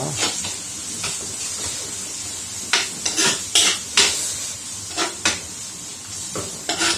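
Squid curry being stirred in a pan, with a spoon scraping and clinking against the metal in irregular bursts, some sharp knocks standing out over a low background hiss.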